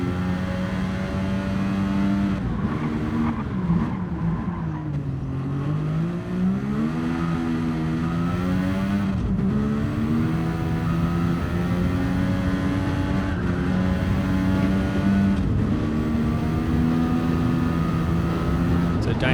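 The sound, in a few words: race car engine in a racing video game at Mount Panorama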